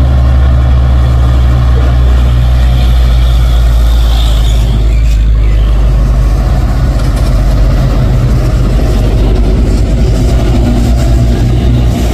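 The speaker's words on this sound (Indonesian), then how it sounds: "dua unit truk trailer menanjak" Two heavy trailer trucks labour up a steep hill in hot weather, a loud, constant low engine rumble with a faint hiss partway through and no talking.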